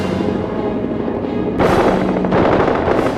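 Rapid machine gun fire from a World War I fighter plane rattles loudly in dense continuous bursts, with two sharper, heavier volleys starting partway through over a steady engine-like drone.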